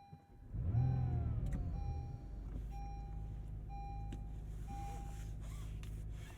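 An Acura NSX Type S engine starts with a short starter whirr and a loud flare of revs, then settles into a steady, rumbling idle, with faint electronic chimes over it.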